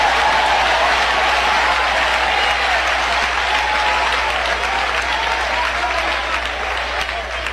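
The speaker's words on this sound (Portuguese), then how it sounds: "Batam palmas e glorifiquem ao Senhor." A Pentecostal church congregation claps hands steadily and loudly throughout, a dense continuous wash of applause with crowd noise and no clear speech over it.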